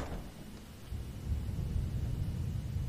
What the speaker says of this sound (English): the thunder sound will go off again